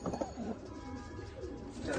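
Red Madras pigeons cooing softly in a steady, low murmur that runs throughout, with a slight swell near the end.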